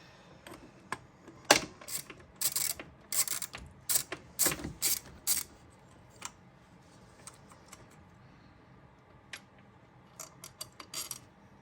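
A ratchet loosens bolts while a starter is replaced on an Acura RSX, giving bursts of sharp rapid clicking close by, with pauses between turns and a few lone clicks later.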